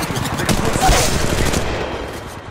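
Loud automatic gunfire from an Apex Legends battle, a dense rattling burst of close shots with overlapping fire and game sound, tapering slightly toward the end while a voice may be faintly present.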